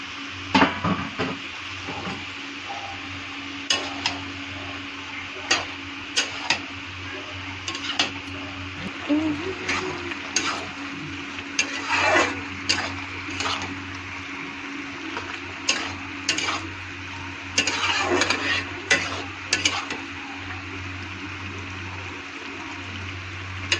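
Chopped spinach is stirred in a pan with cooked vegetables. A metal spatula clanks and scrapes at irregular moments over a soft frying hiss and a constant low hum.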